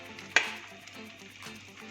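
Batter mixture sizzles gently in a pan over a low flame, a quiet continuous frying hiss with one sharp clink early on and no voices.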